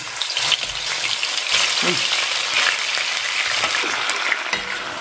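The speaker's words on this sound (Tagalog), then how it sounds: "Prituhin muna natin hanggang mag-brown." Pork ribs frying in a pan until brown, a loud, continuous sizzle and crackle with scattered stirring scrapes, close by and without speech.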